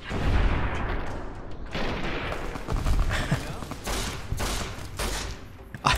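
Repeated gunfire bursts in Fallout: New Vegas, a modded hardcore playthrough on the Roads Less Traveled content, crackling in dense, uneven volleys with heavy booming impacts over about six seconds, loud and close.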